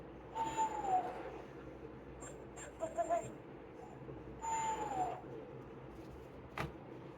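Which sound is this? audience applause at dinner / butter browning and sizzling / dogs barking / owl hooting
owl hooting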